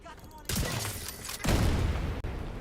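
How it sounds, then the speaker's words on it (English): A frag grenade blast in an open-world shooter video game: loud booming bursts of explosion and gunfire-like crackle filling the short clip, with no clear talking over it. "Tossing a frag."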